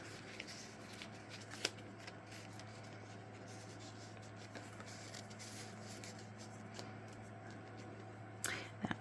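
Paper pages of a junk journal folio are flipped open and handled, giving soft rustles, rubbing and crisp shuffling at close range, with sharper flicks near the start and end.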